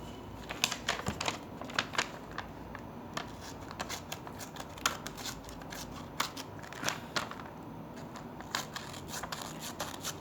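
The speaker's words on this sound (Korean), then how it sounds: "가위를 한번 테스트해 보겠습니다" Small scissors on a Victorinox EvoWood multitool with walnut scales snip repeatedly, giving a quick run of crisp, close metallic clicks and crunches in an uneven rhythm.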